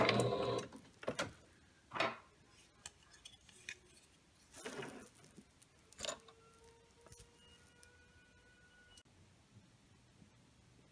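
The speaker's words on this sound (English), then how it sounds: "now I'm going to sew into that start, and then I'm going to back stitch" A sewing machine works on fabric in short, sharp mechanical bursts spread apart, separated by fabric handling and light clicks, then the motor drops to a softer, steadier hum for the last few seconds.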